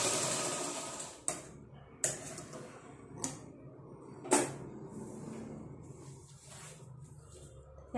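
A sewing machine double-stitches the shoulder seam of a blouse, running in short bursts with brief pauses and sharp clicks between them, close and fairly quiet.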